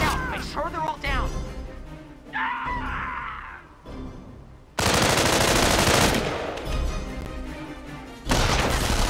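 Bursts of machine-gun fire and heavy shots in the World War II strategy game Company of Heroes break out loud and dense, with shouted voices and battle noise around them.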